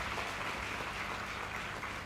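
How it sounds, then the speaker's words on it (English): A large audience applauds at a university inauguration ceremony, making a steady, dense wash of clapping that runs without pause and sounds somewhat distant and muffled. "I request all of you, please give a big applause for Professor K.C. Reddy Garu."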